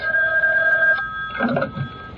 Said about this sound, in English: Your phone is ringing.